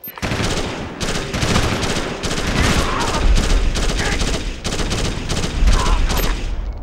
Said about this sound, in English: I'm taking heavy RPG fire and cannot extract